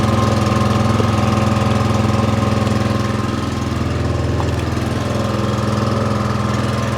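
An old Atco ride-on lawn mower's engine runs steadily up close with a constant, even drone and slight knocking throughout, and no voices.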